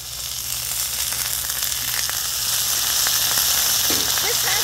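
Green beans in Thai chili sauce sizzle steadily on a Blackstone griddle, a loud, close, continuous frying hiss with small crackles, no talking over it.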